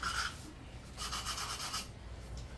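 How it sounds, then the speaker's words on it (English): A small sander works over wood for a tiered tray, giving two soft rasping bursts of rubbing, close and fairly quiet, with a short pause between them. "we are going to take our little sander"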